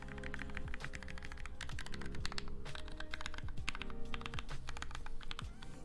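Rapid typing on a custom-built MiniVan mechanical keyboard, a dense run of crisp, close key clacks with no pauses, heard alone.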